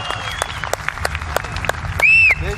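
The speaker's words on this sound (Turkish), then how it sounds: "Milli takımımızı bir alkışlayalım mı? Kuvvetli bir alkış değerli İstanbullular." A crowd at an outdoor ethnosport festival applauds the Turkish national kokpar team, a sustained burst of clapping broken by a sharp whistle near the end.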